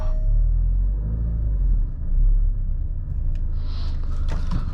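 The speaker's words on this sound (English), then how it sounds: "I can definitely hear a significant amount of tire noise on the front end" Steady low rumble of tires rolling on pavement from inside a moving 2023 Alfa Romeo Giulia Veloce, with noticeable front-end tire noise, continuous and droning with no talking.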